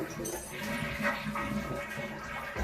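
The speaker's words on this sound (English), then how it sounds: "So you want to flush it." A toilet flushes to empty its tank, a steady rushing wash of water that runs at even loudness for a couple of seconds, close and without any talk.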